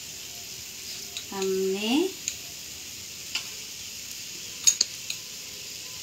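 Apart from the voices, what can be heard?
onion sizzling while frying in a pan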